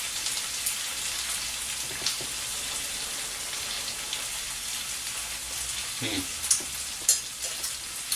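Sauce bubbles and sizzles on a stove in a steady crackling hiss, with a couple of clinks and soft knocks near the end.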